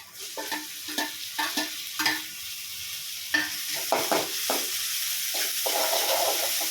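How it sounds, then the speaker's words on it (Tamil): Tomatoes sauté in a hot pan, a soft sizzle broken by a series of sharp scraping stirs at irregular intervals, fairly close and moderately quiet with no talking. "இப்போ தக்காளி ஆட் பண்ணிக்கலாம்"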